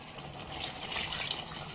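About two cups of water pour into a pot of drumstick sambar for boiling, a soft, steady splashing gush lasting under two seconds, faint and close.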